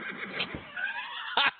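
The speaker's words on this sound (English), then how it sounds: "I have a quicker horse sound." Horse neigh sound effect, a short whinnying call with a wavering, squealing tone followed by a brief bright burst near the end.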